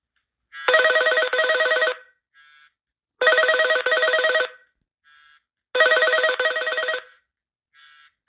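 A telephone rings out over a speakerphone while a call is being placed, three loud double-burst rings repeating about every two and a half seconds, each followed by a faint short tone, with no talk.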